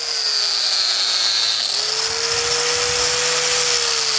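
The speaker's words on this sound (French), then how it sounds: "C'est comme ça que j'ai amené la meuleuse." An angle grinder cuts into Mbigou stone, giving a loud, steady high-pitched whine with a shifting tone as the disc bites, close up and continuous with no speech.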